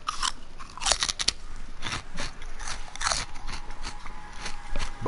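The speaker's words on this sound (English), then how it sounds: "Sorry about crunching the pork rind in your ear." Pork rinds crunch loudly right at the microphone during a Call of Duty Black Ops 3 Zombies session, with repeated crisp bites and chewing over faint background game noise.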